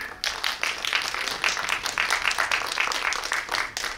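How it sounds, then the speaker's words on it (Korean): An audience claps continuously at a film guest visit in a cinema hall, dense steady applause from a crowd starting abruptly and holding loud throughout. "다시 한번 박수 부탁드리겠습니다"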